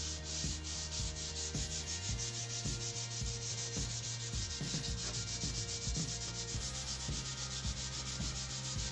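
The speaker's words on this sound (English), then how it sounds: "All I'm basically doing is just removing scratches left over from the 240 grit." Steady rubbing strokes of sandpaper across a wooden guitar neck, smoothing away 240-grit scratches; close, continuous and rhythmic, with no voices.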